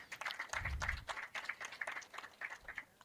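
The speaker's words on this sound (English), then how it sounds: "Can you give it a big hand clap?" Audience at a university alumni association unveiling ceremony gives a round of hand clapping, moderately faint and steady, with a brief low thump partway through.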